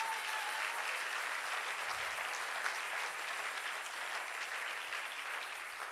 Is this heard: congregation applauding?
yes